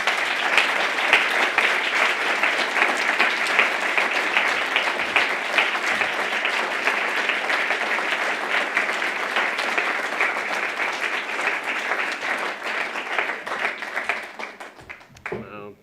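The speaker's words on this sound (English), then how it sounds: "Let's give a big round of applause to June, John, and Lauren" Sustained audience applause at a fireside community evening after a musical performance, a dense steady wash of many hands clapping for about fourteen seconds before tapering off near the end, with a few voices mixed in.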